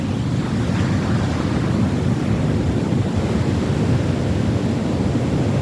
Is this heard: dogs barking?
no